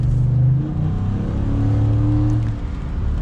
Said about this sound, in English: If I give it some gas